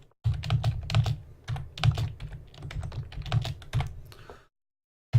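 Steady, rapid typing on a computer keyboard in a quiet room, the keystrokes close and distinct, running for about four seconds before stopping.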